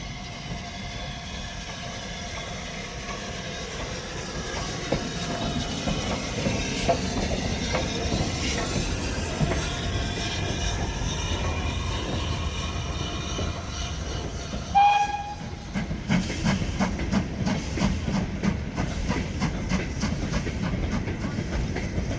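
Locomotive 73156 arriving with a rake of vans on a heritage steam railway, a rumbling approach with a short horn or whistle blast followed by steady rhythmic clickety-clack of wheels over rail joints, growing louder.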